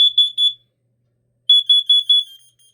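A carbon monoxide alarm beeps shrilly in two quick bursts of four sharp electronic tones, separated by a short silence.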